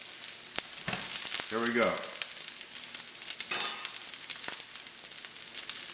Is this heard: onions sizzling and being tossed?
yes